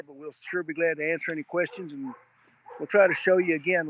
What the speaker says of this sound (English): if you can hear the dogs barking in the background, it gets a little noisy here